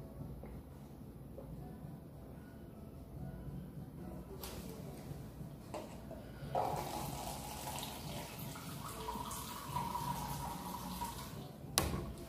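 Water runs from a tap in a steady, moderately close stream with a few clunks and shifts in flow, and no voices over it.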